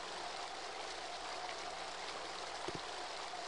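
In the video game The Dig, water gushes through a hole as a faint, constant rushing hiss, with one soft low knock near the end.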